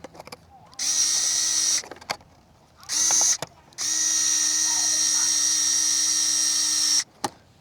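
Power tool driving screws into the bumper mount of a Mini LMT Grave Digger RC monster truck, three separate high whining bursts of increasing length with quiet gaps and small clicks between them.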